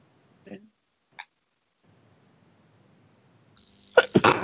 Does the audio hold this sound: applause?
no